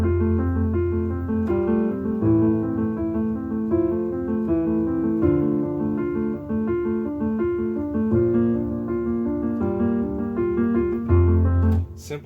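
Solo piano plays the second verse of a song, sustained chords over a melodic left-hand line, close and moderately soft, no voices.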